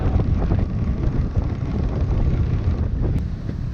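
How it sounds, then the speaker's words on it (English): Strong gusty wind roars steadily across the microphone aboard a Hallberg-Rassy 54 sailboat off Montserrat, mainsail and genoa set in about 20 knots; a loud continuous rumble with no talking. "20 knots of wind now, very gusty"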